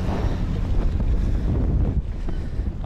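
Strong wind buffets the microphone at a beach in Railay, Thailand, a steady loud roar with gusty rumble throughout and no voices.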